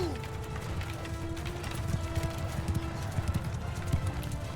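Galloping horse hooves from cavalry in Mount & Blade II Bannerlord, a steady rapid clip-clop of several mounts with faint mechanical clatter, continuous under battle noise and a voice talking.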